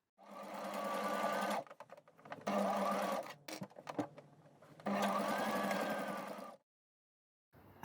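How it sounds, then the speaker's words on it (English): A sewing machine stitches the collar of a heavy coat in three steady runs, buzzing evenly with brief pauses and soft handling noises between them. "so I'm going to sew the collar first"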